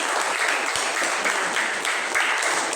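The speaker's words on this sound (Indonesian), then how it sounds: "Tepuk tangan untuk kelompok Gemar Membaca." A classroom of eighth-grade students applauds a reading group after a short story is read aloud, the clapping steady and dense from start to finish with no talk over it.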